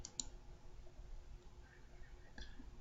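Faint, close computer mouse clicks as someone right-clicks a slicer in a spreadsheet, one sharp click at the start and another softer one near the end over a quiet hiss, with no speech.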